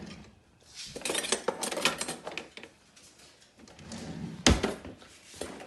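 Metal spoon and cutlery clatter as a kitchen drawer is rummaged through and closed while cooking meatballs in roasted tomatillo sauce, a series of close clinks and knocks with one sharp bang near the end.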